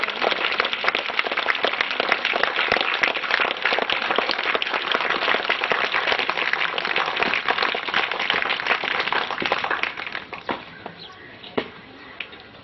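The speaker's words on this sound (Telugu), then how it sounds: "ఓకే, చప్పట్లు కొడదామా?" A school audience claps steadily in a dense, continuous wash of applause that thins out and scatters over the last couple of seconds.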